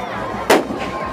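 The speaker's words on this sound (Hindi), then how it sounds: "देखा धमाका हो रहा है।" A single sharp firecracker blast rings out at a Chhath Puja celebration on a Dhansiri River ghat in Bokajan, loud and close, with a faint echoing tail over background murmur.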